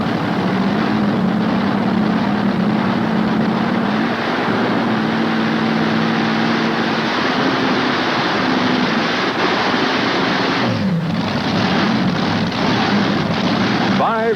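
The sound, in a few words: pulling tractor with five Chevrolet engines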